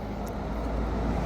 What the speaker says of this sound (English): I can hear another car coming